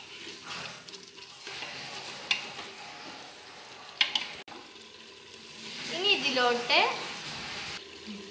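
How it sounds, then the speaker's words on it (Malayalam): A spoon stirs and mixes spices with dried lime in a hot pan for kabsa rice, giving close scraping strokes over a soft sizzle that swell into a busier stretch of mixing. "ഇനി മസാലകളൊക്കെ ഒന്ന് നന്നായിട്ടൊന്ന് മിക്സ് ചെയ്തെടുക്കാം."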